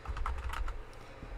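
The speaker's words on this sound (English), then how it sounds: "if I can type, that is." Computer keyboard keys tapped in a quick uneven run, then a pause and a couple of last taps, close and quiet.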